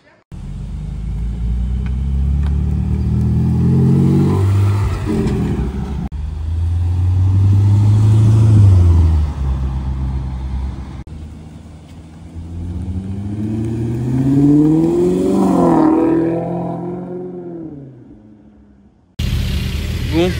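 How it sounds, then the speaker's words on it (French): A convoy of sports cars including a Porsche 718 GT4 and a Corvette drives past in Gérardmer, loud engines swelling and fading one after another with rising revs as each car nears and passes, someone talking over the noise. "regardez-moi ce petit convoi sympa avec une 718 GT4"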